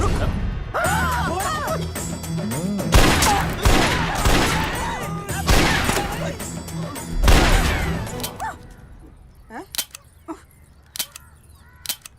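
Bursts of gunfire ring out in a Hindi action film, dense volleys mixed with crashes and shouting voices over the first eight seconds, then trailing into a few sparse, sharp isolated shots.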